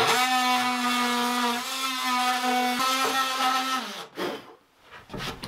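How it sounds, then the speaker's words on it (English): An oscillating cutoff tool whines at a steady high pitch while cutting, loud and close for about four seconds, then stops, leaving quieter handling noise. "I think a better tool for the job would be my cutoff oscillating tool."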